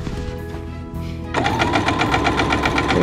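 A sewing machine stitches close along a fabric edge on an apron facing, starting with a low hum before breaking into a loud, rapid, even rattle of stitching.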